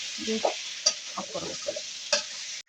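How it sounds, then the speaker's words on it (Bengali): Fish being sautéed with spices in a pan for a sidol recipe: a spatula stirs and scrapes in a few separate strokes while a soft, steady sizzle runs underneath, close and moderately quiet. "এখন মাছটাকে ভালোভাবে কষিয়ে নিব।"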